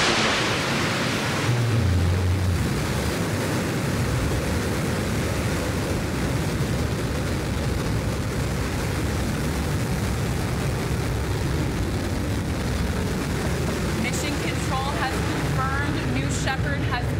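A Blue Origin New Shepard rocket lifting off roars as a continuous broadband rumble heard from a distance, steady and dense for the whole stretch, with faint chirps near the end.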